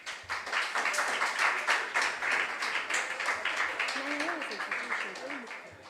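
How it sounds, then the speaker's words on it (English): A school audience at a junior science and maths quiz applauds with steady, dense clapping, and a voice briefly speaks over it toward the end. "Please, let's clap for him as he takes his seat."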